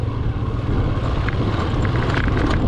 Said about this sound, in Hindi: ये जो इंजन का आवाज़ आ रहा है वो काफ़ी हीट हो गया है